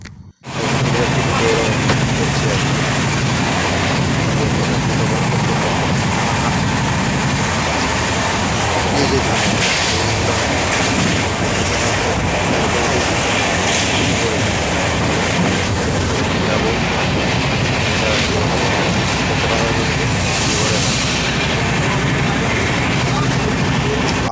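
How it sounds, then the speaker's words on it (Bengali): A crowded passenger train runs on the Jhargram to Bardhaman line, heard from inside the carriage as a loud, continuous rumble and rattle of wheels with an ongoing murmur of people talking. "এখন হচ্ছে ট্রেনের মধ্যেও উঠে পড়েছে কারণ কারণ প্রচুর ভিড় ছিল ট্রেনে"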